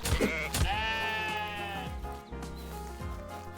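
Sheep bleat in a video game, a long wavering bleat up close followed by a few shorter ones, loud and clear with no talking over them.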